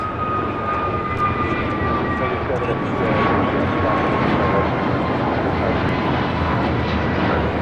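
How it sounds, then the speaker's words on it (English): An American Airlines Airbus A321neo, Flight 59 bound for Kailua-Kona, thunders down the runway at LAX on takeoff, a loud sustained jet roar with a faint whine, while people chat quietly underneath. "This is American Airlines Flight 59 taking off to Kailua, Kona on an A321neo."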